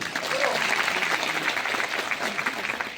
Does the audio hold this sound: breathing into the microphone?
no